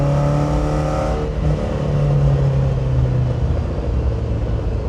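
A vintage 1970s–80s Ferrari engine revving hard with a whooshing, turbo-like whine, loud and close, rising and then dropping off after about a second into a continuing rumble.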